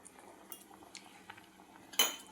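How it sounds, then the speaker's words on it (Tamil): A spoon clinks and scrapes against a pot while stirring payasam with cashews, raisins and cardamom, with soft, faint scraping and one sharper metallic clink near the end. "கிண்டுறோம்."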